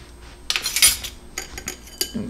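Baking powder, baking soda and salt are sifted through a small metal strainer, giving close, bright metallic rattles and taps in a few quick bursts, with the loudest shaking near the start and lighter knocks afterward.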